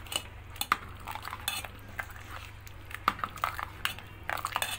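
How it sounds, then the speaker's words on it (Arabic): A metal spoon stirs sugar into coarse grated coconut cooking in a pot. Repeated light clinks and scrapes against the pot come close and fairly quiet, with a soft hum underneath. "واقلب فيه كده"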